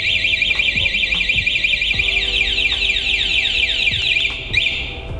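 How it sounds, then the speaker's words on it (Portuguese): Electric bike anti-theft alarm wails loudly and continuously with a rapid warbling electronic siren as the bike is moved, with faint clunks underneath. "A partir do momento que eu bloqueei ela, ninguém pode mexer sem acionar o alarme"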